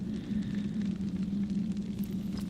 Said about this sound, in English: Notice how the fire burns.